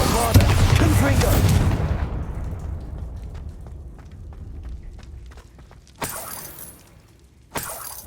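Bombarda and Confringo spell explosions in Hogwarts Legacy, a loud shattering blast that fades into a long rumbling tail, then two sharp bursts follow near the end.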